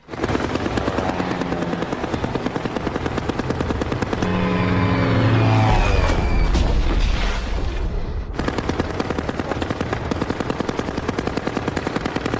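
German warplane attacking in a war film, a loud droning engine with rapid, continuous machine-gun fire rattling throughout, swelling into a roaring low pass near the middle before the gunfire resumes.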